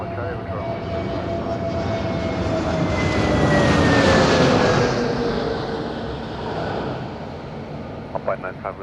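A fixed-wing aircraft taxiing at Madeira Island Airport on a windy day gives a steady engine roar and whine that swells to a peak midway and then eases, loud and continuous, with radio chatter over it.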